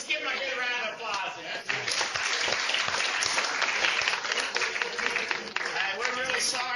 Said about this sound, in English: Let's give him a good round of applause